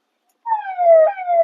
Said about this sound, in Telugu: దీనికి సైరన్ కూడా ఉన్నది,